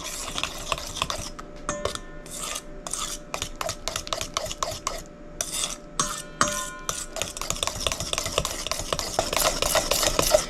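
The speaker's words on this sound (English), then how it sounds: "We're going to alternate between flour, milk. We're going to mix." Batter being mixed for a no-sugar-added lemon blueberry bread as flour and milk are added in turns, with a steady run of close clinks and scraping stirs against a bowl and no talking.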